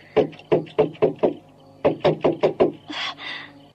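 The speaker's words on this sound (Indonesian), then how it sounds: "Aku mendengar suara pintu diketuk orang di ruang tamu." Knocking on a door in a house at night, two quick bursts of about five sharp raps each separated by a short pause, loud and close, followed by a brief rustle.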